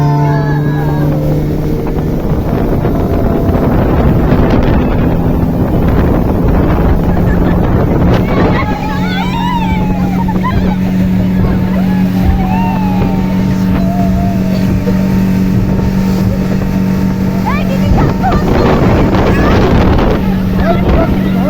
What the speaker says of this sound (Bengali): আমরা উঠেছিলাম স্পিড বোটে।